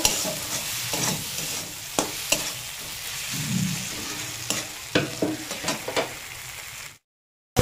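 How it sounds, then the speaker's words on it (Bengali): Spice masala for ghugni frying in oil, sizzling steadily while a utensil stirs and scrapes the pan with repeated clinks, close and fairly loud, ending abruptly in silence near the end. "ভালো করে এবার মশলাটা কষিয়ে নেব"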